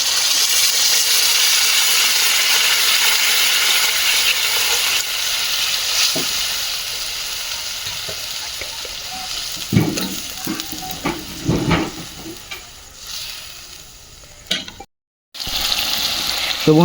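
Chicken curry in a pan sizzling and frying as water is poured in and stirred, a steady hiss with scattered crackles and scraping, loud and close, with a brief dropout near the end.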